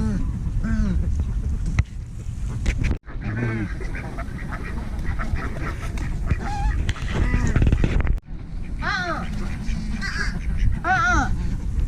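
Ducks and geese honking and quacking at a lakeside while being fed, repeated calls close by and further off over outdoor rumble, with people talking throughout.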